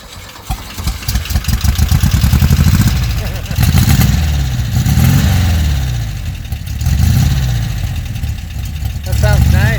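A 1969 VW Karmann Ghia kit car engine fitted with aftermarket mufflers revs up and falls back several times, loud and close, with a throaty rising and sinking pitch between idle stretches.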